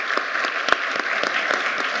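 Steady, close applause follows a panel discussion on mobility and inclusion, thanking three presenters with an even patter of many hands and one sharp clap standing out.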